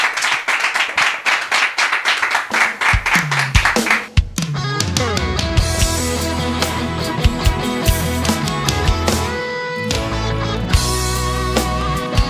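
An audience welcoming a singer at a worship event claps in a loud, fast rhythmic beat for about four seconds before music with drums and instruments takes over.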